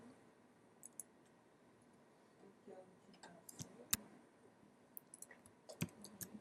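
A computer mouse gives faint, sparse clicks, a single tap here and there with short bursts of a few, against a quiet room.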